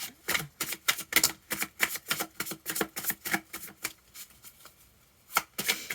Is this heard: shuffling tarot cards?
yes